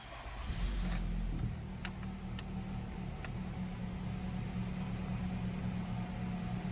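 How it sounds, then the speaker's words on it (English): A 2020 Nissan Rogue SV engine cranks and starts with a brief loud surge, then settles into a smooth, quiet idle heard from inside the cabin, with a few faint clicks. "let's go ahead and start this vehicle up for y'all"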